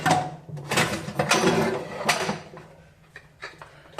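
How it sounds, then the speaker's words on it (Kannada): A pressure cooker lid is fitted onto the pot in a home kitchen, giving several close metallic clanks, scrapes and rattles that die down to lighter clicks near the end. "ಮುಚ್ಚುಳ ಹಾಕ್ಬಿಡೋಣ ಕುಕ್ಕರ್ಗೆ"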